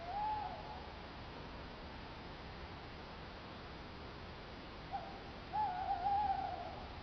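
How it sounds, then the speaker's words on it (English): A tawny owl hoots from a distance over steady background hiss, one call near the start and a longer wavering call near the end. "that sounds like a tawny owl"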